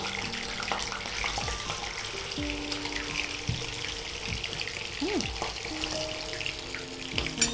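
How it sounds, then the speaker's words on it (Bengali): Steady sizzling of fish frying in oil in a pan, close by, with faint tonal background sounds and occasional clinks, no clear speech. "এভাবে আমি মাছগুলো ভেজে নিচ্ছি"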